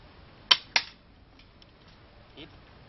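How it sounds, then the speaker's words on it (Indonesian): Two sharp, snappy shots from a KAC PDW spring airsoft gun in quick succession, each a crisp pop with a short tail, followed by faint quieter clicks. "Gunakan airsoft gun spring ini 5 kali tembakan."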